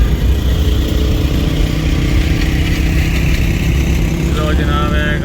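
Motorcycles on a Gujranwala street keep up a steady, loud engine rumble close by, with a brighter rising whine near the end.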